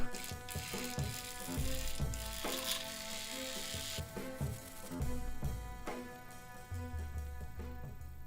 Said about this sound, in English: that mixer seemed to do a pretty good job